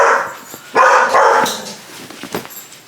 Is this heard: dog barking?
yes